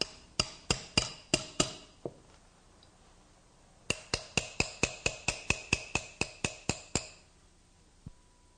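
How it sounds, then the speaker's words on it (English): Sharp metallic hammer blows ring out on a punch driving a pin from a SIG pistol: a quick run of five strikes, a pause, then a faster steady series of about a dozen, and a final tap. "with a decent hammer, drive it out"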